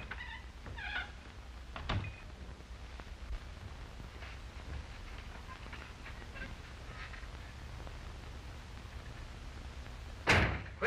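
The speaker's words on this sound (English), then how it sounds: "slamming them doors so loud" A door slams loudly and close by in a 1937 film scene, one sharp broadband bang near the end, after a fainter knock earlier, over a low background hum.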